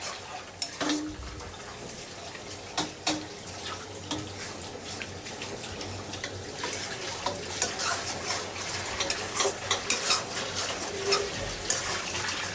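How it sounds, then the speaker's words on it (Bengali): Hand-ground spice paste fries in a pot for chicken (morog) pulao, a low sizzle broken by repeated sharp scrapes and knocks of a spatula stirring at an uneven rhythm. "এই মশলাটা যত ভাজা ভাজা করব তত স্বাদ বাড়বে"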